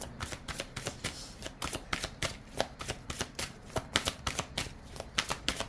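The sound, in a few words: tarot cards being shuffled and drawn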